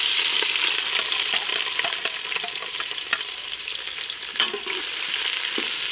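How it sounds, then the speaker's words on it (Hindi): Steady, dense sizzling of onions frying in hot ghee, close up, with occasional stirring scrapes and pops over the constant crackle. "घी गर्म हो गया, इसमें प्याज डाल देंगे"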